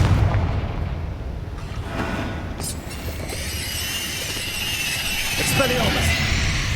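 Fiery Confringo spell blasts from Hogwarts Legacy, heavy booming bursts in a dense, loud combat mix with layered effects and a voice calling out spells throughout.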